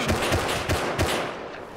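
Bursts of gunfire in the survival game Rust, a few rapid shots clustered close together, loud and near with no talking over them.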